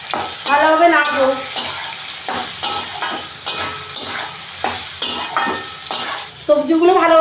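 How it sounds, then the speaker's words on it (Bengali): Cashews, raisins and nuts are stirred into vegetables frying in a pan for chira pulao (poha). A close, loud sizzle runs under repeated scraping stir strokes, with no talking. "কাজু বাদাম কিশমিশ, আবার বাদাম, এসবগুলো দিয়ে ভালোভাবে নাড়বো।"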